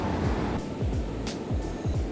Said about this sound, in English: The waves are coming in, oh my God, here comes a huge one.